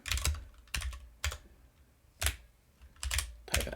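Bursts of keystrokes on a computer keyboard while entering a command in a Linux Mint terminal, several short clusters of close, clicky typing with brief pauses, no voices.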